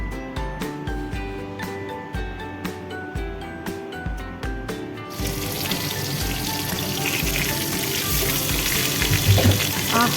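Hilsa fish sizzling in plenty of hot oil that will also fry potatoes, a steady broadband hiss that thickens and grows louder midway, with faint utensil clinks over a low background tone.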